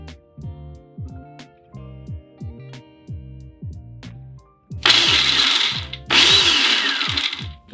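A food processor blends garlic and a lemon cheek for pesto alla Genovese in two loud whirring bursts of a second or so each, over rhythmic background music.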